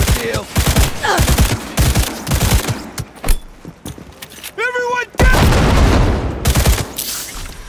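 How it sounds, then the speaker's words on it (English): Shotgun blasts from a first-person shooter, Cyberpunk 2077 played on a Steam Deck, come as loud, sharp bursts in close succession, mixed with other game effects and voices. "Shotgun ought to seal the deal."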